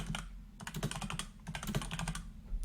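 Rapid clicking of computer keyboard keys being typed on, steady bursts with a short pause, close and fairly quiet, no talking.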